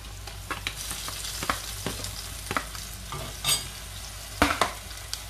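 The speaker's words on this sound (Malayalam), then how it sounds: "പച്ചമുളകും കൂടെ ചേർത്ത് കൊടുക്കാം." Tomato and green chillies fry in hot oil for a Kottayam-style king fish curry, a soft sizzle under repeated sharp scrapes and clanks of a spoon stirring the pan.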